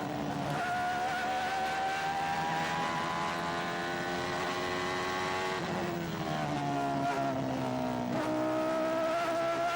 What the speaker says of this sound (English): Mansell, in the other Ferrari, was after Patrese's lead